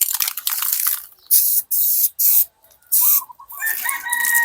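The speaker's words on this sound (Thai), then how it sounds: "หัวฉีดนะครับมันจะ ต้องวางในแนวนอนนะครับ ก็แนวนอนมันถึงจะ มันกระจายนะครับ" A can of 2K premium gloss black spray paint hisses from its nozzle in a run of short, loud bursts, each a sharp spray cut off by brief silence, close to the listener.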